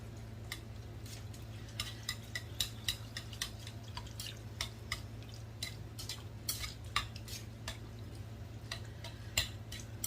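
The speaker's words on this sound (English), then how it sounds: "let's stir this up" Utensil stirring the base of a mushroom rice noodle bowl in a pot, a steady run of light clinks and scrapes over a constant low hum, fairly quiet and close.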